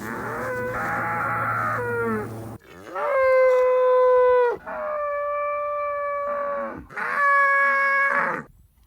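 A cow lets out a string of strange, howling, dinosaur-like calls, four sustained tonal bellows close by, shifting in pitch and timbre, with short pauses between them.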